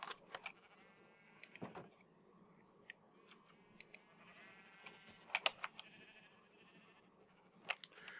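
Sheep in the video game Minecraft bleat in short, scattered calls over a low background hum, several bleats overlapping near the start and more popping up intermittently, some close and clear, others softer.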